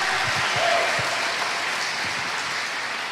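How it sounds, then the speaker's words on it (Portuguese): Church congregation clapping, a brisk, steady round of applause heard alone with a few brief murmurs underneath, tapering slightly toward the end. "Dê um aplauso a Jesus."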